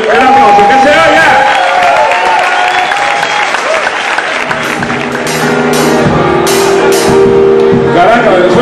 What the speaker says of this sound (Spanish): Por favor, el aplauso, que se oiga.